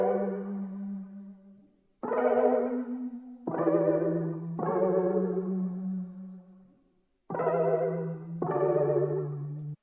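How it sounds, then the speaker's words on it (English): A warm R&B chord sample run through a Shallow Water pedal, sustained chords in wobbling, chorused waves with a low tone underneath, arriving as separate swells with brief gaps between them. "After that, I just bounce it out, then run it through my shallow water pedal, so it sounds like this now."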